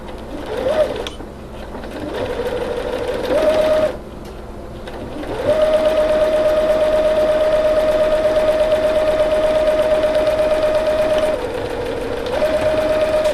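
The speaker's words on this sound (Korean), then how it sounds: "이을 원단의 솔기 부분을 가지런히 마주보고 접힌 솔기 부분에 직선 바느질을 해줍니다" A Lion The Style 50 home sewing machine runs a straight seam along folded fabric edges. Its steady, close motor whine comes in long runs with brief pauses between them, and no one speaks.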